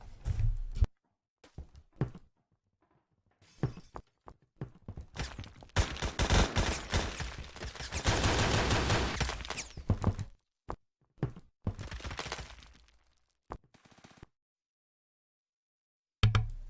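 AK-12 rifle fired in short taps in the shooter game Phantom Forces, loud close bursts of gunfire separated by silences, with one longer sustained volley in the middle and scattered single shots after.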